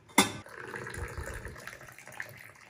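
Boiled water poured into a teapot to rinse out loose Chinese gunpowder green tea for Moroccan mint tea. A short splash comes first, then a steady gurgling trickle of liquid runs at moderate level to the end.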